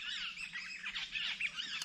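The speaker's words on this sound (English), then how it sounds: "Those birds are quite noisy." Birds calling noisily outdoors in the wild, a busy overlapping chorus of high chirps and squawks that runs without pause.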